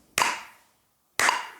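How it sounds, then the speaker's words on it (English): Two sharp hand claps land exactly one second apart, each a bright crisp snap with a short decaying tail, close and loud with near silence between them, keeping time on the downbeat with a metronome. "we're just going to clap on the downbeat"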